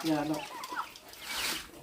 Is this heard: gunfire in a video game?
no